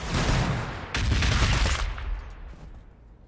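Heavy fire support in the Warhammer 40,000: Battlesector video game arrives as a loud, dense barrage of gunfire in two close bursts that roar and then fade into a decaying rumble, with no voices.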